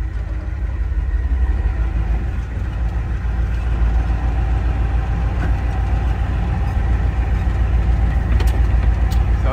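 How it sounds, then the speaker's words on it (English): Truck fitted with Super Duty axles driving down a road: a loud, steady low engine rumble with road noise, heard close throughout and without speech. "So it drives. How about that? Well, she's going down the road."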